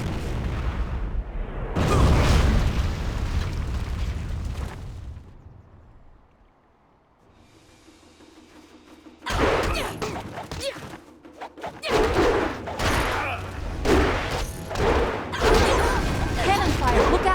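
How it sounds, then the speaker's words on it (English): Cannon fire explosions in the video game Jade Empire, heavy booms and crashes in two loud bursts separated by a quieter stretch, dense and close, with game voices in the mix. "Cannon fire, look out!"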